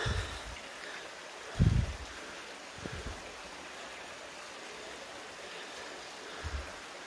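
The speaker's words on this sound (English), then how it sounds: "Water falling down" Stream water falling down a walking trail in the Blue Mountains, Australia, rushes in a steady broadband wash, with a few low thumps of wind or handling mixed in.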